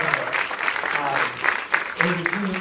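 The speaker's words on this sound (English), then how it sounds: "give that a round of applause" Applause at a film premiere in a theater, honoring the art department: a brief, steady burst of clapping from the crowd, moderately loud, with voices mixed into it.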